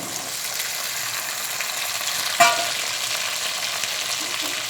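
Potatoes frying in a pan with tomatoes and cashews for aloo biryani, a steady close sizzle with a brief clink of a utensil midway, no talk.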